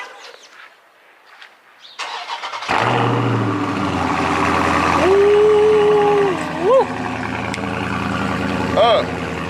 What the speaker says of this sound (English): We're starting with that cold start